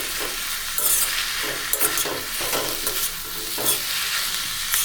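Tomatoes with coconut sauté in a pan for tomato chutney, a soft sizzle broken by repeated scraping stirs of a spatula, close and fairly quiet with no talk.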